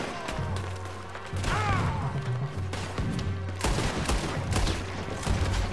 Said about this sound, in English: This is bad shooting.